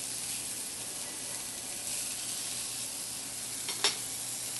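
Scallops sear in a hot sauté pan with a steady, fairly quiet sizzling hiss, broken near the end by a brief clatter as they are flipped.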